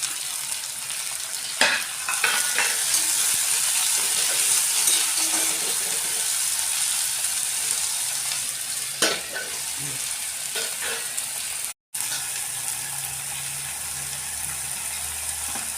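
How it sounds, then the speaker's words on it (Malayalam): Finely sliced onions sauté in hot coconut oil with fenugreek seeds for a mutton liver dish, a constant bright sizzle punctuated by a few sharp spoon taps and scrapes, with a brief dropout near the end. "നൈസായിട്ട് അരിഞ്ഞു വെച്ചിരിക്കുന്ന സവാള അതിലേക്കിട്ട് ഒന്ന് വഴറ്റി കൊടുക്കണം."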